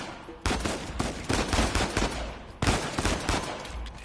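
Bursts of game gunfire in Uncharted 4, loud rapid volleys of shots in two clusters separated by a short lull, dense and continuous with no talking.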